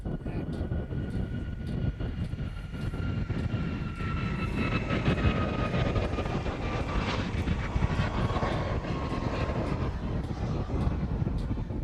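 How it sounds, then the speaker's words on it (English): A B-52 bomber taxiing across a runway at Honolulu airport, heard as a steady, loud jet engine roar held throughout with a faint rising whine and no talk. "The B-52 is crossing the other runway right now"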